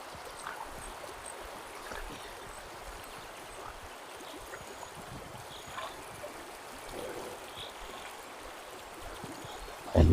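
A river stream flows in a continuous, soft, even rush of water, steady throughout with a small bump at the very end.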